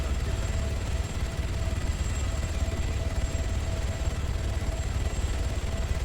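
Helicopter in the Arma 3 video game, a steady low rotor and engine drone with a faint constant whine, moderately quiet and unbroken, no voices over it.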